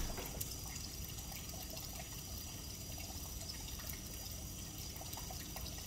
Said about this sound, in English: Miren, le tengo que lavar todos sus trastes